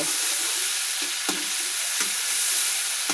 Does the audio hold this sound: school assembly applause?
no